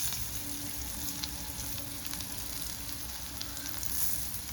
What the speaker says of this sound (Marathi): अजून जे दोन मासे आहेत ते आपण फ्राय करून घेऊया